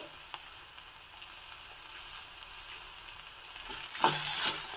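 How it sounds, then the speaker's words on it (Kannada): Tomatoes sautéing in a pan with salt for a spicy chutney, a faint, steady sizzle with a brief louder burst of frying and stirring near the end. "ಟೊಮೊಟೊ ಚೆನ್ನಾಗಿ ಬಾಡಿಸ್ಕೋಬೇಕು"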